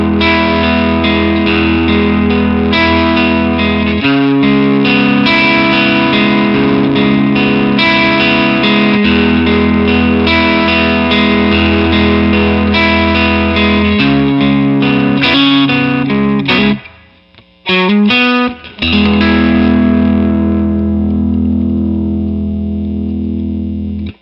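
Electric guitar played through a Mesa Boogie California Tweed amp with the gain turned down, giving loud, continuous overdriven chords and riffs with a brief near-silent break before the playing resumes and rings out.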